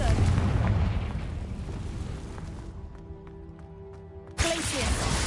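A Confringo fire spell explodes in the Hogwarts Legacy video game, a loud rumbling blast that fades over a few seconds before a second sudden burst cuts in.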